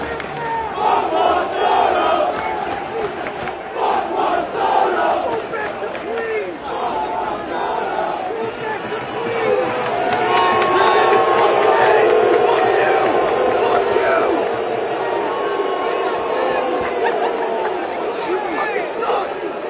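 A large stadium crowd booing Juan Soto roars in a sustained, swelling wall of voices that rises to a loud peak midway and stays dense throughout, with talk underneath.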